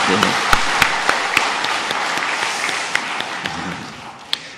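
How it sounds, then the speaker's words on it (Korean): A church congregation at a Korean Sunday service applauds the choir steadily, the clapping sustained and fairly close, with a few sharper individual claps standing out. "감사의 박수 한번 할까요?"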